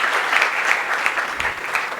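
Audience applause at a 2023 Marathi poetry reading event, steady dense clapping from a crowd filling the whole stretch without talk.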